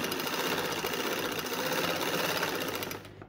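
Sewing machine stitching lace along the edge of a dupatta, a steady fast mechanical whir with rapid needle clatter running continuously for about three seconds, close and alone before trailing off.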